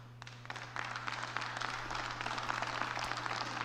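Applause from an audience at a political speech, a faint, steady patter of many hands clapping from a distance over a low electrical hum.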